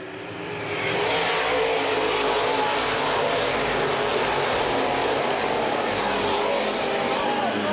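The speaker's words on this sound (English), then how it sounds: "Final feature of the night at Bearfield Speedway." Open-wheel modified race cars roar around Baer Field Speedway during a night feature race, a loud continuous engine drone swelling in after a second and holding steady, with a commentator talking over it.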